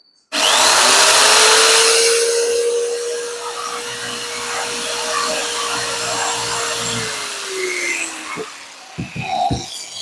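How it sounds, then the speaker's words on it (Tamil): A drilling machine boring a small hole in a vintage HMV record player part: the motor spins up sharply into a steady, loud whine that holds for several seconds, then winds down, followed by a few light knocks. "இப்போ இந்த ட்ரில்லிங் மிஷின் வச்சு நான் இதில் ஒரு சின்ன ட்ரில் பண்ணுறேன்"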